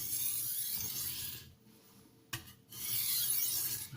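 A knife is drawn across a Haidu 1500 FEPA / 6000 JIS grit aluminium oxide sharpening stone. The strokes are close, gritty and rasping, with a brief pause and a small tap between them.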